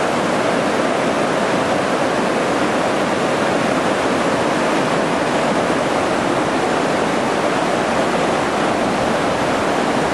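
The Sandy River near Welches, Oregon rushes steadily, a loud, unbroken broadband roar of flowing water with no voices.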